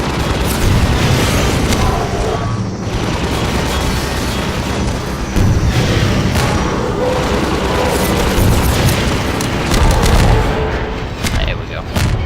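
Rockets from a rocket launcher exploding in the video game Half-Life 2, a loud, dense, nonstop barrage of booming blasts and rumbling impacts for the whole stretch.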